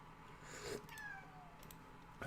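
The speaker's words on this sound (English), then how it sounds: "That's a cat." A cat gives a faint, short meow indoors, a soft distant call over quiet room noise.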